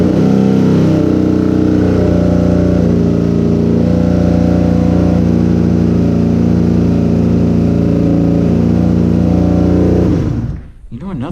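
A Honda VF500F motorcycle engine running steadily right after carburetor synchronization, a loud, continuous close-up hum with a stable pitch that cuts off near the end, with someone talking over it.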